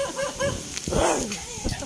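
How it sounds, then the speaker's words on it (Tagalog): A dog barks and whimpers nearby in a Filipino home, short yips repeating across a couple of seconds beneath a voice talking. "Ayaw tumigil ng aso. Tahol pa rin siya ng tahol o."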